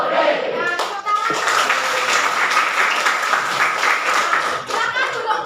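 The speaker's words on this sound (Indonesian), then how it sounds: "tepuk tangan" Schoolchildren in a classroom applaud, dense, lively clapping from many small hands that runs the whole time and stays close and loud, with children's voices and a teacher's voice mixed in.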